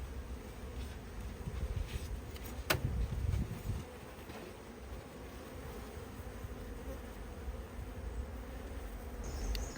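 Honeybees in an open Buckfast colony hive, with many young bees around the frames, drone in a steady, close, faint buzzing hum throughout, with occasional louder bees passing near.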